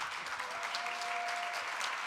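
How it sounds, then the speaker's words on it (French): A dental forum audience at a diploma ceremony claps together in sustained, even applause, moderately close, with no speech over it. "on peut applaudir, effectivement."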